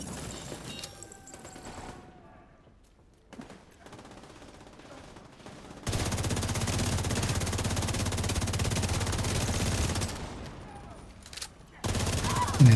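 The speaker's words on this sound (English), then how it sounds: "Oh, they're shooting through there." A video game shootout fills the air with rapid bursts of gunfire and sustained automatic fire. Quieter stretches with sparse shots break up dense, loud volleys, and background voices are faintly present.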